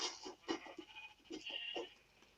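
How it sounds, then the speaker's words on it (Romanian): Minecraft sheep bleat repeatedly close by, several overlapping wavering calls in quick succession. "Uite câte oi avem aici."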